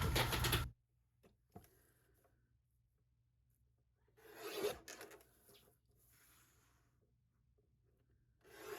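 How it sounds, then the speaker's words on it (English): A paper trimmer cuts through paper with soft raspy sliding strokes, a loud first swipe followed by quieter scraping passes separated by near silence, heard close up. "let me grab my paper trimmer. We're going to trim all of these down"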